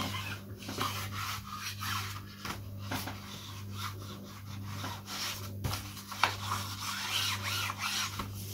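An iron is rubbed and pressed along the edges of iron-on covering on a model aeroplane wing, giving continuous close scraping and rasping strokes under a steady low hum.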